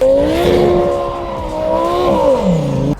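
A 1,500 horsepower twin-turbo Lamborghini Sterrato off-road supercar engine sounds loud and close, a droning tone that rises and falls before dropping away sharply near the end.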